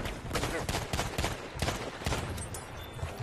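Rapid video game gunfire and explosions, a dense run of sharp bursts and rattling shots at moderate loudness with no pauses, and speech faintly mixed underneath.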